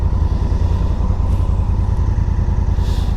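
A motorcycle cruises along a motorway in Germany, its engine a steady, loud low rumble mixed with constant wind buffeting, unbroken for the whole stretch with no talking.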